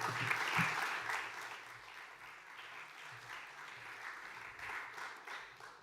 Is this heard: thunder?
no